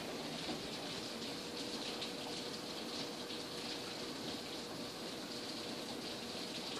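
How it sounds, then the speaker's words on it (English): Heavy rain pours down outside as a steady, soft, even wash of hiss with no breaks, heard at a distance and alone, without voices. "Pouring down rain"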